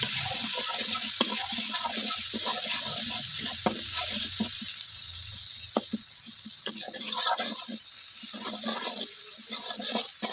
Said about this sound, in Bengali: এবার মশলাটাকে কষিয়ে নিচ্ছি